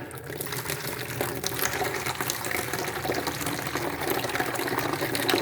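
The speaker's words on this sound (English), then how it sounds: "I'm going to pour some water in this green bowl." Water from a tap pours steadily into a green bowl being filled to wash market grain, a continuous close splashing rush that grows slightly louder as it goes.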